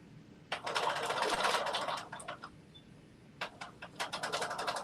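A sewing machine stitches through thick coat collar layers in two bursts, a long steady run followed by a pause and a shorter, choppier run of quick rattling stitches, close and fairly quiet.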